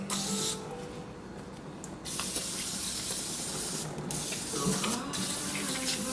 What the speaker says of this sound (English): Just going to spray it off a little, get any gunk off that's on it, any brake dust.